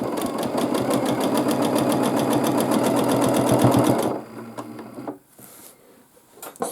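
A sewing machine quilts a baby quilt sandwich, running in a fast, steady mechanical rattle of needle strokes for about four seconds, then stopping, followed by a few faint clicks and handling sounds.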